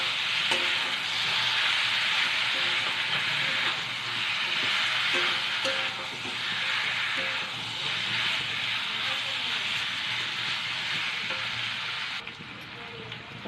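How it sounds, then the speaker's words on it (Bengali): Taro stolons stir-frying in hot spiced oil for a dish with pond heron fish, a broad steady sizzle and hiss with intermittent stirring clatter, continuous and moderately loud before easing off at the end. "ভালো করে কচুরলতি দিয়ে এটাকে কষাবো।"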